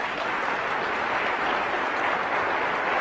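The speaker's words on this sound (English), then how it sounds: "you can applaud." Audience at a motivational talk applauding, a steady, even wash of many hands clapping at moderate volume with no speech over it.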